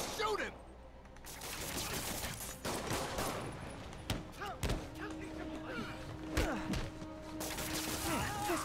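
Gunfire rattles through a fight in the PS5 game Marvel's Spider-Man, bursts of shots mixed with thuds and crashes over a busy background of game noise.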